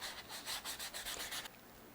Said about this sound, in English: I'm gonna sand this neck to 360